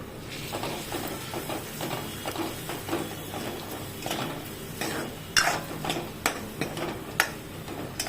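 Medu vada batter with coriander powder and green chillies is stirred in a bowl, a soft repeated scraping and tapping with several sharper clinks of the spoon toward the end, close and moderately quiet.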